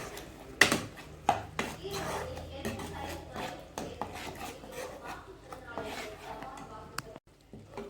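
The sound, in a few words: stirring salted masala for onion egg gravy in pan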